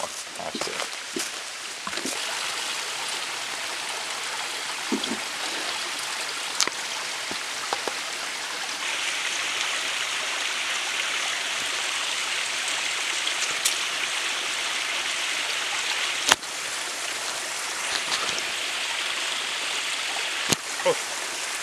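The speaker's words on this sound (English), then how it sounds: "Alright, first stream crossing." A mountain stream on a Mount Greylock hike flows and splashes steadily at a hiking crossing, a continuous close wash of water with occasional louder drips and splashes.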